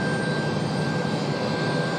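A jet airliner arriving at Raleigh-Durham International Airport, a steady broadband engine roar that holds loud and even throughout, with a faint high whine above it.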